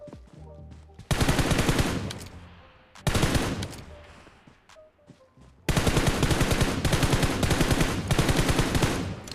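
Gunfire in a mobile third-person shooter video game, loud rapid automatic bursts in three runs, the first two short and fading, the last a long sustained stream of rattling shots, with a voice talking faintly.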